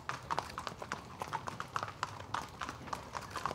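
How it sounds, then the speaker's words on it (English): Horses' hooves clip-clop steadily on a hard surface in Newmarket, a busy racing town, with several animals walking at once in an irregular overlapping rhythm, moderately close and clear, no talk. "There's just horses everywhere."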